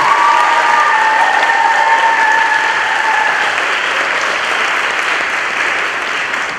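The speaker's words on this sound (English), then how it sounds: "While she's getting up there, can we give a round of applause to Miss Avery Lindbergh for putting together" A crowd applauds steadily and loudly at a spring choir concert, the clapping holding strong throughout before easing off slightly toward the end.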